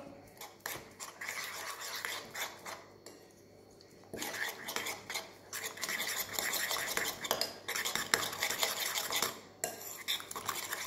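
A utensil whisks and scrapes an egg mixture seasoned with salt and pepper against a bowl, quick rhythmic clinking strokes in bursts with a short pause, close and fairly loud, no talking.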